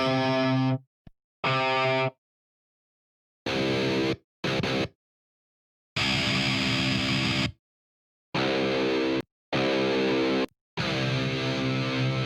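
Electric guitar through an amp simulator preset with heavy distorted tone, played in short chords and bursts separated by silent gaps, loud and dry with no talking.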